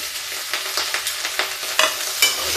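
Cut okra and potato fry in a pan under quick, rhythmic stirring, with scraping spoon strokes over a continuous crackling sizzle, close and fairly loud.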